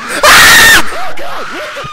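Character screaming in the horror video game Slendy Tubbies, one loud piercing shriek lasting about half a second, followed by a voice laughing in wavering, sliding bursts.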